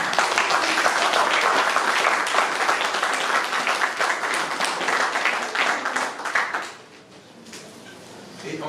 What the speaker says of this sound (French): Et en salle, ça applaudit, enfin en ligne, ça applaudit aussi.